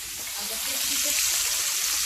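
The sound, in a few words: fish sizzling while frying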